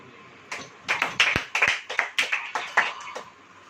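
A small audience at a Christian prayer meeting claps for a few seconds. The claps are sharp and distinct, in a fairly regular rhythmic burst, and nearby and clear with no talk over them.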